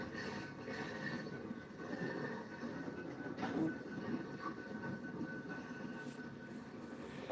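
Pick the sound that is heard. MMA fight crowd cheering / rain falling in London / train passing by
train passing by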